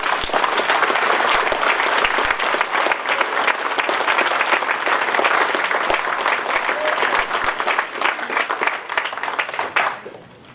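An audience at an adult basic education graduation ceremony claps in sustained, loud applause that holds steady for several seconds, then thins out and dies away at the end.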